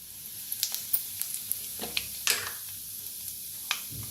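Mustard seeds and cumin popping in hot oil in a kadhai, with faint scattered crackles and sharp spitting pops over a low sizzle, quiet and close.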